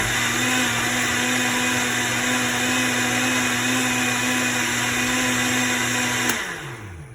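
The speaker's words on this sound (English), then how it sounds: "we're gonna liquefy for 20 seconds" Kitchen blender liquefying milks for a Mexican mosaic gelatin, a loud steady whirring roar that runs uninterrupted for about six seconds, then cuts off and spins down.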